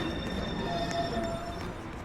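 A New York subway 1 train approaches a station platform, heard as a faint, steady low rumble with a thin whining tone above it, and no voices.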